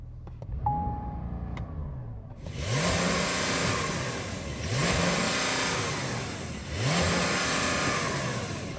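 A Porsche 911 flat-six engine revs hard three times in succession, each surge rising and falling, loud and close after a short quiet start.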